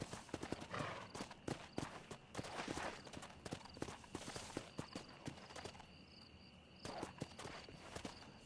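Horse hooves clop on the ground in the Red Dead Redemption video game, irregular close footfalls from several horses with a brief whinny, sounding busy at first and thinning out toward the end.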